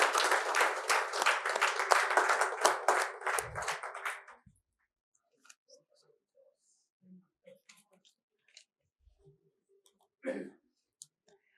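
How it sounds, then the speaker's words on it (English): Conference audience at a wellness event gives a loud burst of clapping for about four seconds, then it stops abruptly, leaving near silence with scattered faint clicks and a brief voice. "Let's give another huge round of applause."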